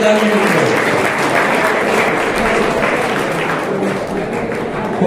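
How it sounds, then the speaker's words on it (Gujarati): Loud, sustained applause from an audience at a school golden jubilee alumni gathering in Ratanpur, Idar, honouring a guest, a dense continuous clatter of clapping that holds steady for the whole stretch with no talk over it. "જોરદાર તાળીઓથી વધાવી દીધું."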